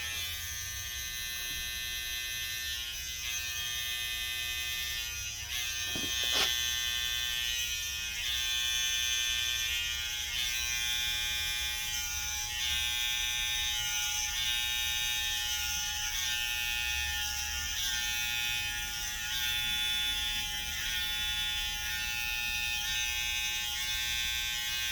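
Electric hair clippers buzz steadily and close up while cutting in a taper line about an eighth of an inch, with one brief click partway through and no talking.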